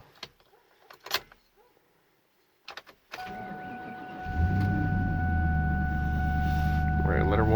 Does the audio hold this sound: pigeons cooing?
no